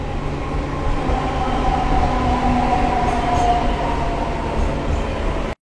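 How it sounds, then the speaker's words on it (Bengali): Inaugural passenger train running on track near Jhanti Pahari station toward Bankura, a loud, steady rolling roar with faint rhythmic wheel noise throughout, ending abruptly. "ছেড়ে বাঁকুড়ার পথে যাচ্ছে ট্রেন।"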